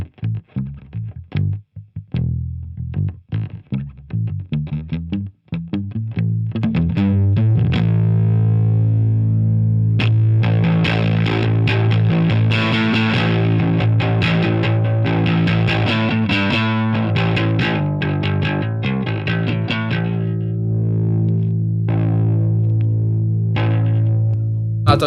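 A jazz bass runs through an overdrive pedal with the gain at zero, first playing sparse plucked notes, then sustained, slightly gritty low lines with busier picking, loud and close with no voices.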